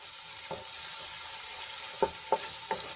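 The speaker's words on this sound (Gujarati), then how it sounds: "બધા મસાલાને આપણે એક મિનિટ માટે સાંતળી લઈશું જેથી કરીને મસાલા સરસ રીતે સંતળાઈ જાય" Spices sautéing in hot oil for a Gujarati curry gravy give a soft, steady sizzle, broken by a few sharp pops and crackles near the end, close and fairly quiet.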